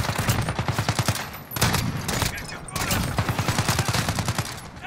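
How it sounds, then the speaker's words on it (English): Rapid bursts of video game gunfire crackle in quick repeated volleys, loud and close, with a brief pause between strings of shots; a voice talks faintly underneath. "Every time I shoot, it just scare everybody."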